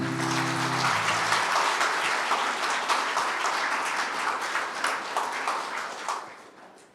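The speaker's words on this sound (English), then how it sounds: "Another round of applause, please." Audience applause at a spiritual retreat talk, a dense, sustained round of clapping from many hands that starts with a brief tone and fades away toward the end.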